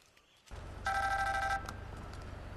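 A mobile phone rings in a film scene, its bright electronic ring tone entering abruptly and sounding clear and steady for under a second before cutting off, set over a low constant hum with no speech.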